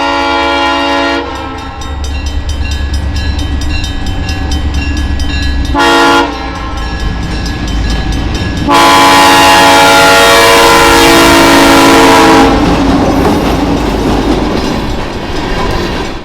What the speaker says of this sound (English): We grabbed a shot of them heading northbound at track speed with the M3B sounding great on a warm fall afternoon.